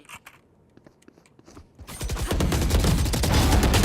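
Video game gunfire opens with a few faint scattered shots, then swells into loud, rapid, continuous automatic bursts that fill the rest of the moment.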